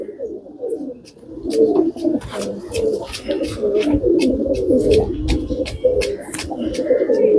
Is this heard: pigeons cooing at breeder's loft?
yes